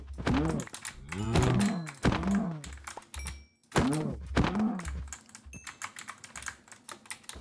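Several cows in the Minecraft video game moo in drawn-out calls, some overlapping, mixed with quick computer keyboard clicks during quieter gaps.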